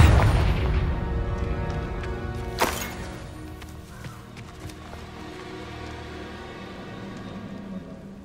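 A Confringo spell explosion in the video game Hogwarts Legacy opens with a heavy low boom that decays into a rumbling tail, followed by a sharper crack and scattered debris-like hits over a lingering game ambience.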